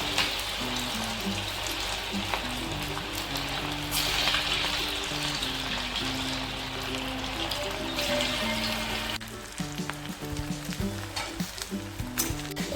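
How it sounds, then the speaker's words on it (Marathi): Corn bhaji fritters deep-fry in hot oil, a dense continuous sizzle and bubbling heard close up, with background music layered over it and no talk. "मी फक्त भजी तळते"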